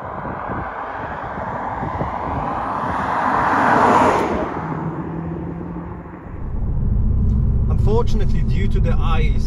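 A BMW Z4 2.0 sDrive rolls over a bumpy, icy road at around 50 mph, giving steady road and tyre rumble with wind noise that swells, dips, then returns heavier.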